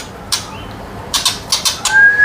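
Tame, farm-bred forest magpie robins at a songbird kiosk give several short bursts of fluttering wingbeats, close and fairly loud, with a thin whistled bird call near the end.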